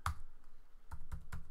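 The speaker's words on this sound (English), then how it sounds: "I need to type in a password" Keystrokes on a computer keyboard entering a password, a quick burst of clicks at the start then several spaced key taps near the end, close and fairly quiet with no talk.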